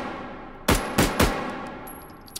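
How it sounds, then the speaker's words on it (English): Three sharp, loud reports from a Makarov pistol in the H3VR virtual-reality shooting game ring out in quick succession at a 5-meter range, each with a short ringing tail, then quiet. "Let's take some shots with it."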